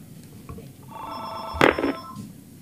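A telephone rings once with a bright, close electronic trill that rises and peaks midway before cutting off, set over faint background noise.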